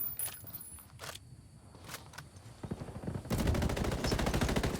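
Gunfight in the tactical shooter Ghost War during a league tournament match: scattered single shots and short bursts early, then a dense, sustained stretch of rapid automatic fire from about three seconds on, loud and continuous with no talk.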